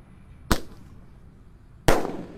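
A Roman candle firework fires two sharp, loud shots about a second and a half apart outdoors, each a crisp pop followed by a brief fading crackle.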